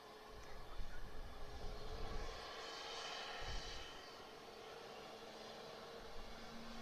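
A fixed-wing aircraft passes at an airport during plane spotting, its faint, distant engine roar swelling and then fading into a steady background rumble.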